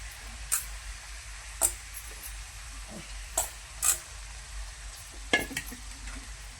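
Carrots frying in oil in a pan while cooking paneer masala, a faint low sizzle broken by several sharp scraping stirs and clinks spaced a second or so apart, close by with no talk.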